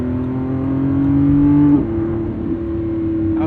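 Lamborghini Revuelto V12 engine on a night drive, a loud, close, steady high-pitched drone that climbs, then shifts down and settles into a constant whine, with no voices.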